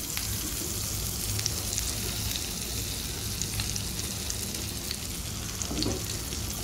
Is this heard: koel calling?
no